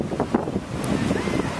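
Pacific Ocean surf at Altata Beach, Mexico, rolling in as a steady broadband wash with heavy wind buffeting the microphone throughout, and no talk over it.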